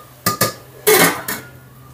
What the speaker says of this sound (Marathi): आता आपल्याला थोडंसं एक 5 मिनटं झाकण ठेवायचं आहे.